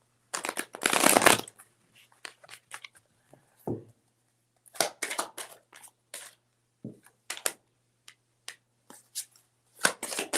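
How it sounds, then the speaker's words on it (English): Tarot cards shuffled by hand in several bursts of crisp riffling and slapping, with a long dense flurry early on and shorter shuffles spaced through the rest, close and fairly quiet. "Let's shuffle."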